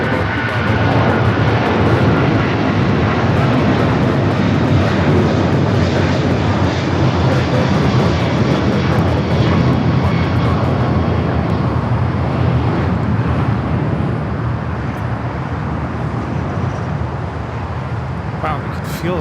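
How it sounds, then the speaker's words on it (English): Jet airliner taking off at LAX airport, a loud, continuous broadband roar and low rumble sustained throughout, close and steady. "we can feel that takeoff"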